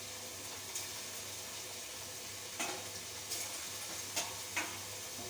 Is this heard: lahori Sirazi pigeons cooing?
no